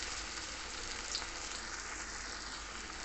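Jackfruit vada batter fries in hot oil in a plastic-lined setup, a steady soft sizzle and hiss that stays fairly quiet and continuous throughout.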